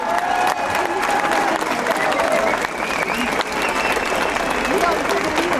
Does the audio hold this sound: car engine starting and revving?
no